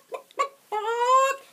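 A chicken clucks twice in short bursts, then lets out a longer drawn-out cackling call, close and clear with no talk over it.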